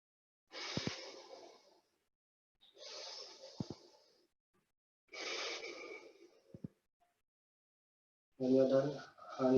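Alternate nostril breathing during a yoga session, with three slow audible exhalations through the nose, close and soft and separated by pauses, followed by a voice speaking.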